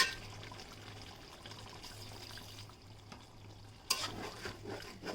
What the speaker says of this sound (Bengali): আমি কাঁচামরিচটা দিয়ে মুরগির মাংসটা নেড়ে নিচ্ছি